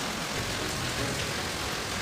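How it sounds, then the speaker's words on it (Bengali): Steady early-morning rain falls in a continuous, even hiss of close, fairly loud drops, with no voices over it. "ঠিক স্কুল যাওয়ার ঠিক আগেই বৃষ্টিটা এরকম নামে"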